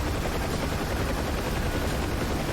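A Ka-50 helicopter in a flight simulator game gives a steady, dense rotor and engine drone that holds evenly throughout with no talk.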